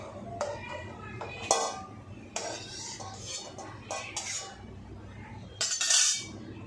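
Softened, cooked kharkol leaves are ground into a paste by hand, with rhythmic scraping and knocking strokes coming in separate bursts and short pauses between them, close and moderately loud.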